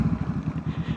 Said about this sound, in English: black carbon tip exhaust on the bike at the minute that Black Widow sent me